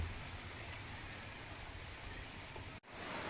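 Dense, steady rain hisses throughout at low volume, broken once by a brief dropout near the end before resuming.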